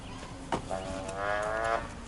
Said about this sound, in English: Is that a cow here?